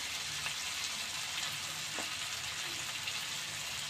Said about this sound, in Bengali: দেখুন পেঁয়াজটা আমার এটা ভাজা হয়ে গেছে আমার ভালো মতো।